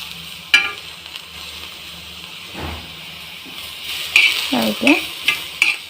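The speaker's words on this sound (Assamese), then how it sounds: "গৰম হ'লত মই ধুই ৰখা শুকান মছলাবোৰ ভালদৰে ভাজি ল'ম" Washed dry spices roasting on a tawa over a very low flame give a soft, steady sizzle, broken by a few sharp scrapes and clinks of stirring toward the end, close and without talk.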